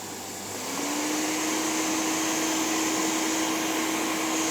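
A Hoover S3450 Sensotronic Total System 50 vacuum cleaner, cleaned up and repaired, starts after a brief pause and winds up to a steady, loud, whining motor drone that holds to the end.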